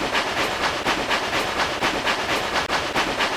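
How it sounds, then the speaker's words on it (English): A train rolls steadily along the tracks, loud and close, with a continuous rushing rumble and a regular clickety-clack rhythm from the wheels over the rail joints. "Spirit Train begins taking the next track that Chris pointed out"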